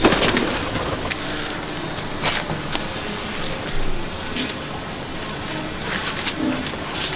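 Madrasi pigeons of the Phulshira line coo over a dense, noisy backdrop of hiss and faint passing traffic, the calls soft and intermittent throughout.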